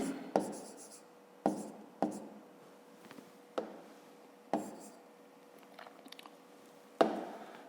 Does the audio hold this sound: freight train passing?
no